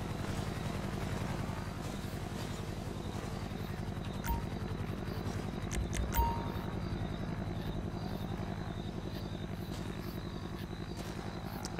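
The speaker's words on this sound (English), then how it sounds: "Alright, got the helicopters on. I got the choppers out." Police helicopters hover in GTA V, a steady rotor thrum and engine drone that holds throughout at moderate distance, with a couple of brief knocks and clicks along the way.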